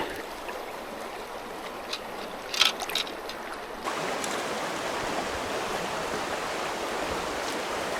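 A northern mountain trout stream rushes steadily in broadband wash, louder and nearer in the second half, with a few faint splashes and knocks early on and no talk.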